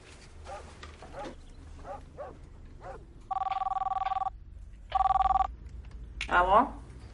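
Telephone ringing as a call is placed in the Bulgarian film Рут (2009): two loud electronic ring bursts with a pause between, set among short spoken exchanges and a dog's bark or whimper.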